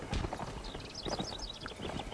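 Horses clip-clop across the ground in the Mount and Blade video game, with dense, continuous hoofbeats and a few faint higher game effects layered over them. The sound is fairly loud and carries on without any talking.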